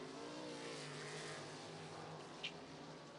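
A California 305 sprint car engine drones and revs at a distance as a qualifying session takes the green flag, a continuous muffled roar with a brief sharp accent partway through.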